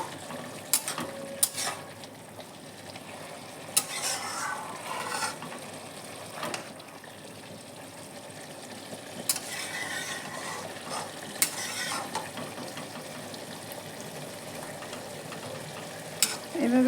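Cabbage cooks slowly in a pan with released water. A faint, low sizzle runs steadily underneath, broken by occasional close clinks and scrapes of a utensil against the pan.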